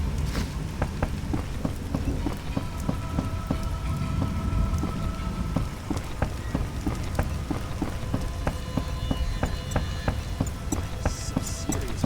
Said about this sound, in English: Some serious rain.